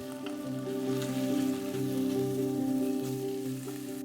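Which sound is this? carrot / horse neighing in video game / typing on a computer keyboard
carrot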